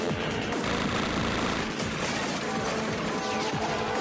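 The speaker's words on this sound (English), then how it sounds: "They're just shooting up everything." Gunfire from a shootout in the film The Fast and the Furious, a dense continuous barrage of shots and crashing impacts mixed under loud music, with no pause across the whole stretch.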